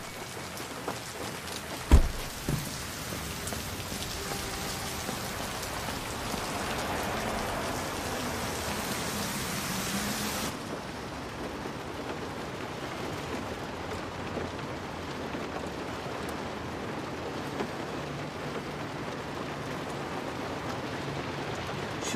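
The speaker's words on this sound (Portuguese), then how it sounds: "Chovendo muito, né?" Heavy rain pours steadily onto a surface during a downpour, a dense continuous hiss with one sharp knock early on, dropping somewhat in level partway through.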